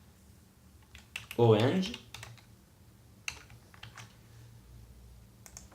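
Keystrokes on a computer keyboard while a word is typed into a code editor, a quick cluster of clicks under a nearby voice, with a few isolated taps afterward.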